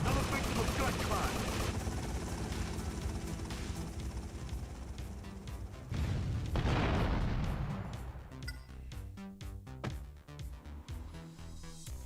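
Gunfire in GTA Vice City Stories, dense sustained shooting and booms filling the mix, then thinning into separate sharp shots toward the end.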